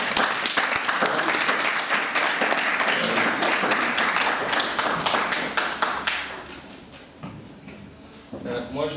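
An audience at a charity gala evening in Brussels breaks into applause, dense rapid clapping from many hands that fades after about six seconds, followed by a voice speaking.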